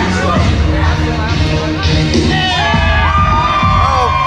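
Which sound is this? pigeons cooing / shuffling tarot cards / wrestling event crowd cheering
wrestling event crowd cheering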